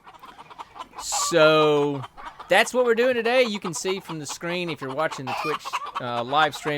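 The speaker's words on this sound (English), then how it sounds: "we chase a lot of chickens. It usually sounds like this." Chickens cluck, with a drawn-out crowing call early on, mixed in with someone talking over them.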